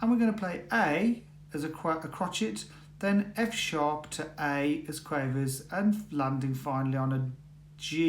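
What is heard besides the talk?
No distinct noise like a dog, phone or traffic.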